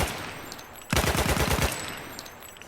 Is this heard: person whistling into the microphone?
no